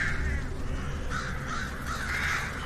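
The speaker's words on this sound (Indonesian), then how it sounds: "muncul sekumpulan burung gagak hitam" A flock of black crows cawing, with harsh, repeated calls that overlap as several birds cry together at moderate distance.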